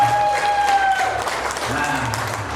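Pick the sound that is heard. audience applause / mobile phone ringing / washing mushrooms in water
audience applause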